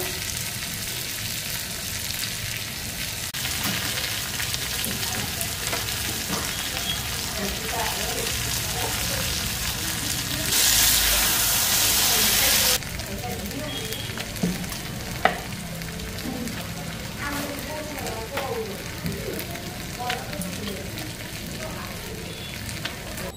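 Food frying in a pan on a home stove, a steady crackling sizzle running throughout at moderate level, with a brief louder hiss burst midway and faint background voices.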